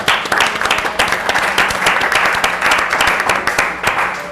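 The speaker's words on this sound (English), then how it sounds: "give one last round of applause to the great panel" Close, loud applause for a conference panel, with many hands clapping in a dense, slightly uneven patter and sharp individual claps standing out, and no speech over it.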